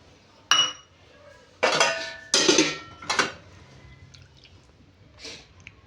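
Kitchen clatter while milk is poured into a cup: four distinct loud clinks of dishes and cups in quick succession, followed by a few fainter taps, with no talk.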